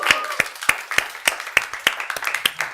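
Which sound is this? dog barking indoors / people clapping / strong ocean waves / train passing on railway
people clapping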